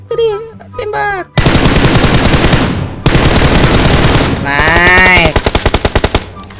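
Rapid bursts of automatic gunfire in a mobile shooter game, loud and close, coming in long sustained volleys with brief gaps, while players talk briefly before the shooting begins.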